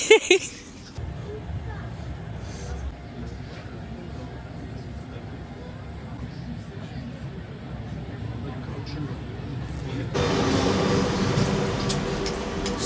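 Paris RER commuter train ride with a steady low rumble and rolling rattle throughout, growing louder and brighter near the end, with faint background voices from the carriage.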